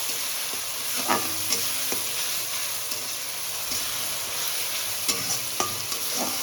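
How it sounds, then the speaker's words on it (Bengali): Chopped onion, green chili and tomato frying in oil in a wok for a Bengali tangra fish curry, with a steady sizzle and spatula stirring scrapes recurring throughout, close and alone without talk. "একটু নাড়াচাড়া করে নেবো।"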